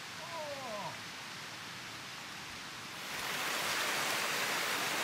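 Steady broadband rush of a fine mountain creek in eastern Oregon's Strawberry Mountain area, flowing water that swells louder midway, with a few birdlike chirps early on.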